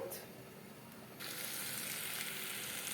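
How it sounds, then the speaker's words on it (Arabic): White rice sautéing in hot oil in a pot, a soft, steady sizzle that jumps louder about a second in and stays at that level, close and fairly quiet. "شوحت الرز بتاعي اهو، شوحته كويس في الزيت"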